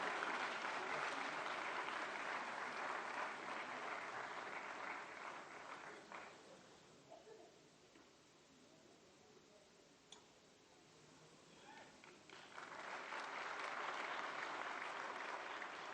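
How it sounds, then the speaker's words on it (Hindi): Audience at a ceremony for the release of the collected works of Pandit Madan Mohan Malaviya claps loudly, then the applause thins to scattered claps midway before swelling again into full, dense clapping. "जोरदार तालियां,"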